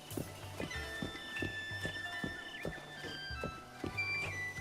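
Horse hooves in a video game clip-clop in a quick, steady rhythm of soft thuds with thin tonal game sounds behind them, at moderate distance.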